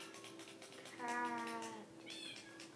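A cat meows in a video game, a clear harmonic mew near the middle of the short stretch, over a steady game background with faint talk around it.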